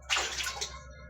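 Water spray from a pressure washer at a construction site, a short broadband hiss that rises quickly and then tapers off into a softer trickle.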